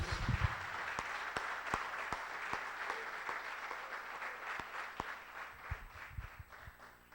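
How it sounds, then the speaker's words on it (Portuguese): Congregation applause during an online sermon, a steady wash of hand clapping with a few sharper claps standing out, fairly quiet and distant, fading slightly toward the end. "Vamos dar uma salva de palmas a Jesus."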